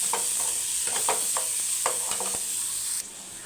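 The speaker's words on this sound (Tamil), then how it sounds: "நல்லா வதக்குங்க. வெங்காயம் நல்லா வதங்கணும்." Onions sautéing in a pan with steady sizzling hiss and a series of scraping stirs from a spoon, close and continuous, the frying noise dropping slightly near the end.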